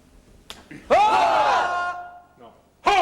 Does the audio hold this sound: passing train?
no